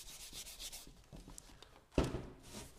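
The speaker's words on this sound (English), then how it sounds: "We're gonna start with some 800 grit sandpaper." Soft rhythmic rubbing of 800-grit sandpaper wet sanding a fender with detergent and water, back-and-forth strokes, close and quiet, with a brief louder scrape partway through.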